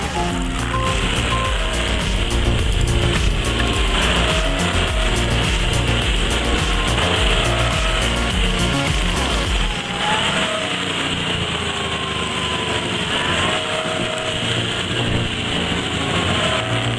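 A 130-horsepower stump grinder mulches four-inch roots with a loud, continuous roaring engine and grinding chatter, rough and heavy at first, then shifting to a steadier, thinner whine partway through.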